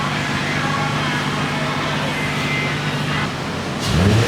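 A car engine with an aftermarket exhaust idles with a low, steady exhaust rumble, smooth and fairly quiet, then a brief rising rev at the end.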